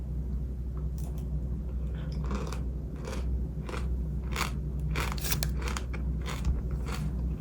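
Crisp, crackly bites into Dubai chocolate filled with crunchy kadaif noodles, a string of close, sharp crunches and crumbling snaps repeating over several seconds.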